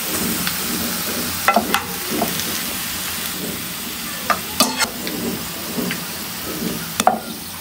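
Sliced onions fry in hot oil for chicken biryani, giving a steady close sizzle with a few sharp clinks and scrapes of stirring scattered throughout, and no talking.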